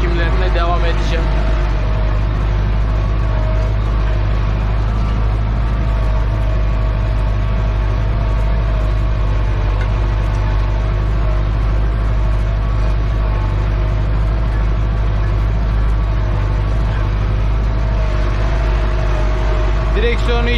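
A tractor engine runs loud and steady while driving across a field being fallowed, a constant deep drone with no breaks, and someone talks over it.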